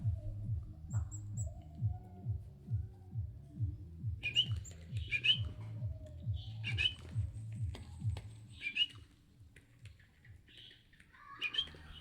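Shrill, repeated squawks and chirps come from baby birds, rising in a nearby chorus over a low rhythmic pulsing hum.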